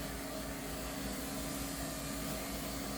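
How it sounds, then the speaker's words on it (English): Grooming vacuum run over a dog's coat, a steady unbroken whooshing motor drone at close range for the whole stretch, with no talking. "We're skimming again because I'm using the vac."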